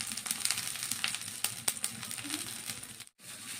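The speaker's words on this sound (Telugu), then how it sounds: "మరిగించుకున్న టమోటా రసంలో పోపు వేసుకుందాం" Tempering of asafoetida and fenugreek seeds sizzles as it is poured into boiled tomato rasam, a steady crackling fry with scattered sharp pops, close and fairly quiet, cutting out briefly near the end.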